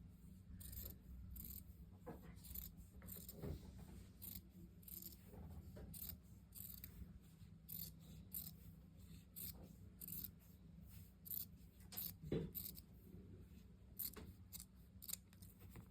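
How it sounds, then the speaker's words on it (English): Scissors trimming sewn bias tape on a pocket flap, faint snips and rustling handling noises over a low steady hum, with no one talking. "All right, so I'm cutting it down."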